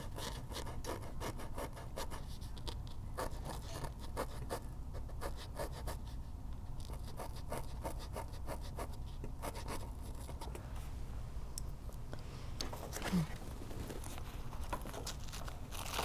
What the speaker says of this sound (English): This is a scrub brush. And, oh yeah, this does work.